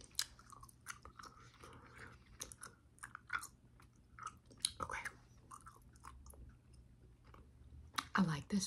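Double Bubble bubble gum is chewed close to the microphone in a soft-spoken ASMR session, with wet, clicky smacks and small crunches in an irregular rhythm, quiet and intimate, with occasional soft speech.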